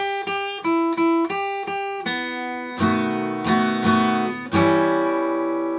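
A short melodic electric guitar phrase: a few quick repeated plucked notes, then fuller chords ringing out, clear and close with no voices.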